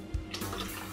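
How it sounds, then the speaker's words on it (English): Water is poured into a hot pot during a home-cooked Chinese hot pot meal, a soft brief splash and trickle, faint and close, with no talk. "I will add more water."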